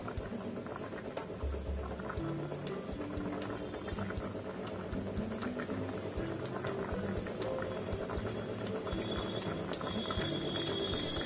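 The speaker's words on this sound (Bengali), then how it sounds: "রুই মাছের পেটিগুলো আমি খুব ভালো করে সেদ্ধ করে নেব।" Rohu belly pieces simmer in a pot, giving a steady close bubbling and pattering with faint mechanical rattling underneath, running the whole time without talk.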